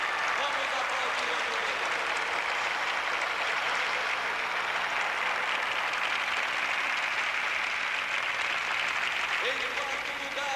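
Audience applause at a prize-giving ceremony on a ranch, a steady dense wash of clapping filling the whole stretch with crowd cheering and voices mixed in.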